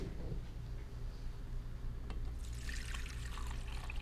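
Buttermilk from homemade butter draining through a strainer, a soft continuous trickle and splatter close by, with a brighter burst of dripping liquid near the end.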